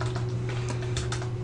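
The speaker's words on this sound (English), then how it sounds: "So we could type in like Billy" Someone types on a computer keyboard while writing Java code, a quick run of close, crisp key clicks over a steady low electrical hum.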